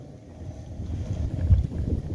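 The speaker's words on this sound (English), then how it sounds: "It's a windy day." Wind rumbles against an outdoor microphone in low, swelling gusts that grow louder toward the end, with no voices over the buffeting.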